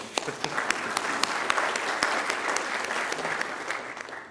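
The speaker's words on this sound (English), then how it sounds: "Clap again." An audience at a Veterans Day tribute honoring Drexel ROTC alumni applauds steadily, a moderately distant wash of many hands with a few sharper claps standing out.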